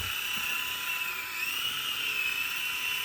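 A coaxial RC helicopter with AS3X stabilization hovers steadily, giving a continuous high-pitched motor whine with a steady rotor buzz, close and unbroken throughout.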